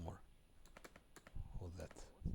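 Computer keyboard keys clatter in quick, uneven bursts at close range while someone speaks over them.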